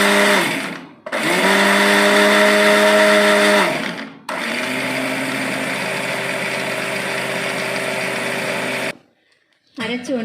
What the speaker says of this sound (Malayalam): നല്ലതുപോലെ പൊടിച്ച് അരച്ച് എടുത്തുകൊണ്ട് വരാം.